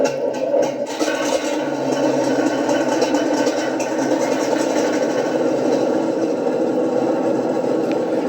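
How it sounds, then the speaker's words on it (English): A 1/16 scale full-metal RC Panzer III tank's simulated engine runs continuously, a steady close buzzing drone with a rough mechanical rattle after a brief start-up. "and that's going to start the engine."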